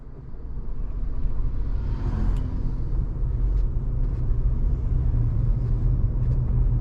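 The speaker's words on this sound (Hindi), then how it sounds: "उसके बाद पहले गियर में एक बार गाड़ी को उठा के देखते हैं नॉन एसी में।" A 2022 Maruti Celerio CNG with the AC off pulls away in first gear, heard from inside as a steady low engine rumble and road drone that rises gently and holds without revving hard.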